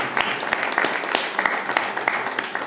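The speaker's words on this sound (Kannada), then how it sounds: "ಜೋರಾಗಿ ಚಪ್ಪಾಳೆ ತಡೆದೇವಿ" Loud applause from a congregation at a church Christmas service, a dense sustained wash of clapping hands with scattered sharper claps running throughout.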